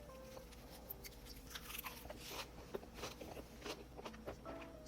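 Someone eats dried herring gwamegi with oyster bossam, giving faint, close bites and crunchy chewing in a quiet room, with soft, scattered mouth noises over a low background hum.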